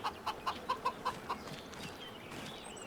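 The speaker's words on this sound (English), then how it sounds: "We haven't got a huge amount of chickens." Chickens clucking on a farm in Farming Simulator 25, a quick run of about seven short clucks in the first second and a half, then quieter background.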